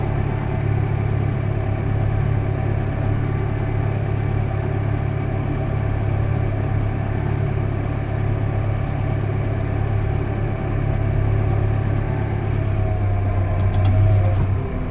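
A slurry spreader's pump and hose reel run during spring slurry spreading, giving a steady, loud mechanical drone with a low engine hum that holds unchanged for the whole stretch, with no voices.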